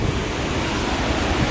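A waterfall beside an abandoned river mansion makes a steady, loud, broadband roar of rushing water. It holds even and continuous, and no voices are heard.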